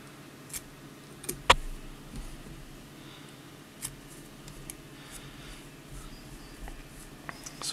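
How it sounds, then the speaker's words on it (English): Scissors trim fly-tying hair flush against a cone head, producing faint, sparse snips and ticks at irregular intervals against a quiet background. "I lay my scissors right down on that cone head and just kind of trim at an upward angle"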